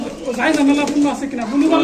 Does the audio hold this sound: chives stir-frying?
no